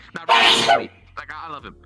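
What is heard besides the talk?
sneeze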